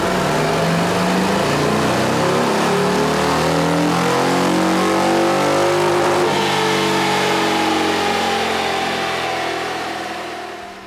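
A heavy bagger motorcycle engine revs hard on a dyno and holds at high pitch, its tone climbing and shifting steadily before easing off at the end, loud and close.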